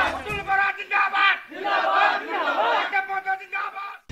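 AGP party supporters outside the Mankachar AGP office, with flags and firecrackers, celebrate with loud, rising crowd cheers and shouted chants in several swelling bursts, close and excited.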